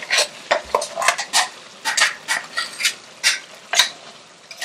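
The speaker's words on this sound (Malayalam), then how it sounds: "അതിലോട്ട് ഞാൻ ഈ അരച്ചു വെച്ചിരിക്കുന്ന തേങ്ങ ചേർക്കാൻ പോവാണ്" Ground roasted coconut paste goes into a cooking pot, bringing close, repeated clinks and scrapes of a spoon against the metal pot in quick irregular bursts.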